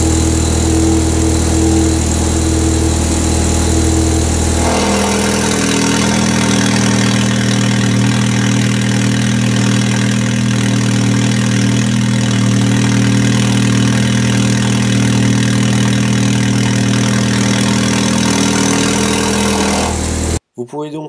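A Seat Leon Cupra idles with an aftermarket exhaust valve fitted in an elbow of the exhaust line, a loud steady low rumble that steps up in intensity partway through and holds evenly until cutting off at the end.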